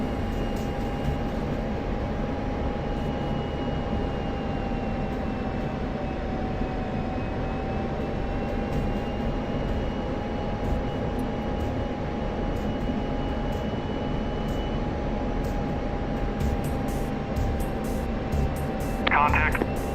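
Steady aircraft engine drone during aerial refueling in a flight simulator game, a constant loud hum with a faint sustained whine over it, unbroken for the whole stretch, with brief light clicks near the end.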